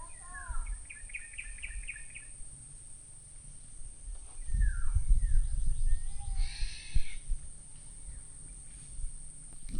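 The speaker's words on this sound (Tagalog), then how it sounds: "Iba't ibang huni ng ibon yung maririnig mo dito kaya nakaka-relax." Various birds calling in a forest at a camping spot in Marinduque, with a short run of repeated chirps, scattered whistles and calls over a soft steady insect drone, mid-distance, with low rumbling handling noise partway through.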